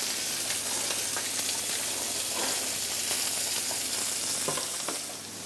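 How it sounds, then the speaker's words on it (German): Butter melts and sizzles in a frying pan, a steady close crackle and hiss that carries on without pause and eases slightly at the end, with no voices. "Dazu gibt man als allererstes etwas Butter in die Pfanne und wartet, bis diese geschmolzen ist."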